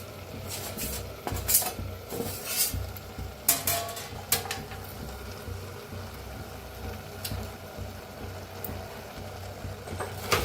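Grated jaggery stirred in a pot until it melts, for carrot puri dough; a spoon scrapes and clinks against the pot in irregular bursts over a low simmering hiss, close up, with no talk.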